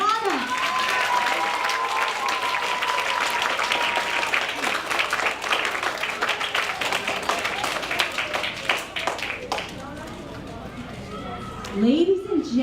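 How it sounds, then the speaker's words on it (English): Sustained applause from an audience for the essay winners at a school DARE graduation in Irvine, California, many hands clapping loudly and steadily before fading out, with voices over the clapping. "Let's give them another round of applause"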